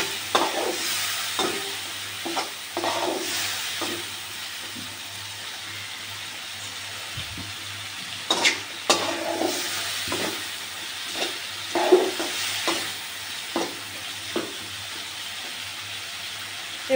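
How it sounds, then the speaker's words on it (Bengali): Fried prawns stirred into a thick spice paste, giving a soft steady sizzle with intermittent scraping and stirring clatters, close and moderately quiet, no voices. "এবার দিয়ে দেবো ভেজে রাখা মাছগুলো। এবার মাছগুলো দিয়ে আরও কিছু সময় কষিয়ে নেব।"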